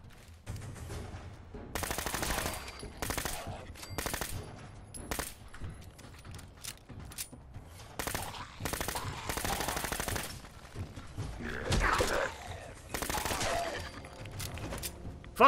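Bursts of rapid automatic gunfire from a gun in Fallout 4, played on survival difficulty, come in repeated loud volleys separated by short pauses, without speech.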